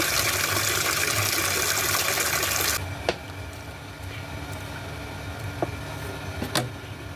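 Water running and splashing as clothes are soaked with Surf detergent, a steady loud rush that stops abruptly, leaving a quiet room with a few faint knocks and clicks.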